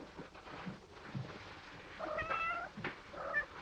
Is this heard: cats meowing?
yes